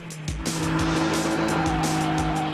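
A drift car built from a Zaporozhets and BMW performs a burnout: a loud, continuous engine roar with sustained tire squeal and skidding noise throughout.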